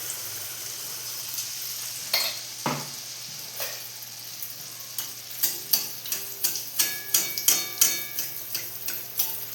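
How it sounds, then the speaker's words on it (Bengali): Hot oil sizzles softly in the background as malpua batter fries, ladle by ladle, with sharp clicking taps repeating rhythmically, growing quicker and more regular toward the end. "কড়াইয়ে তেল বসিয়ে দিয়েছি এবার এক হাতা এক হাতা করে দিয়ে আমি একটা একটা করে ভেজে নেবো"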